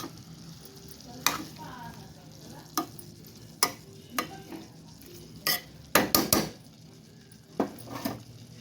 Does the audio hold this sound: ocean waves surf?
no